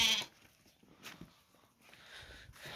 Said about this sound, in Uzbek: Rangi ham toza qo'ylar keldi.